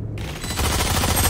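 Gunfire in the tactical shooter Valorant, a short loud burst of shots starting after a brief quiet moment and continuing to the end.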